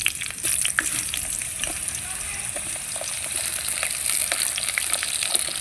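Potatoes and spring onions frying in a pan with tempered chilli, a moderate crackling sizzle with stirring clicks and scrapes, faint and steady throughout.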